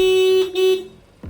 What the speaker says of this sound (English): they seem to have forgotten what a good horn sounds like